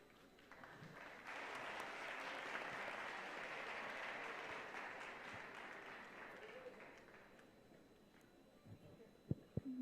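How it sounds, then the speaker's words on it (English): A crowd at a university convocation breaks into sustained clapping that swells, holds for several seconds, then thins out, with a few sharp knocks near the end. "another round of applause"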